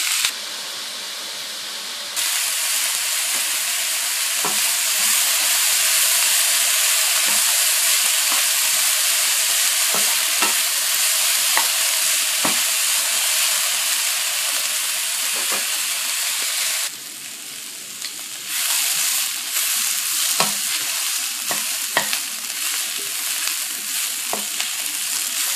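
Vegetables for pancit bihon frying in a pan and being stirred, a loud steady sizzle close by, with occasional scraping stirs and a brief dip in intensity before the hiss picks back up.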